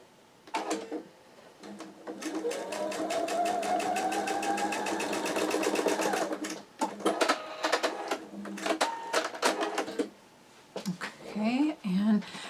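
A sewing machine stitches quilt block pieces with a quarter-inch seam, its needle running in a steady rapid rattle for several seconds, then in shorter bursts between stretches of someone talking nearby.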